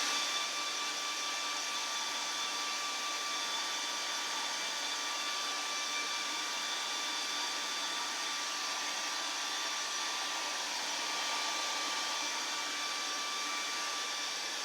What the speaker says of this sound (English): I'm just going to take my hair dryer to these and make sure they're dry